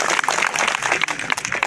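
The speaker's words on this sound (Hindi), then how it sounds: "तालियां।" A crowd claps at a BJP workers' felicitation ceremony in a stadium in Pichhore: a brief burst of dense, rapid clapping, close and fairly loud throughout.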